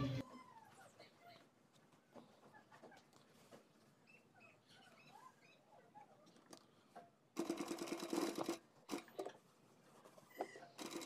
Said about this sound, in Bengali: প্রথমে আমি জোগাড়গুলো সেলাই করে নেব।